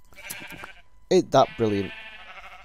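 Several loud bleats come from a Minecraft sheep in quick succession in the middle of the clip, with someone talking over the start and the end.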